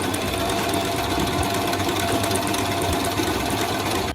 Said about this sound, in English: I sewed all the pieces together and also the edges here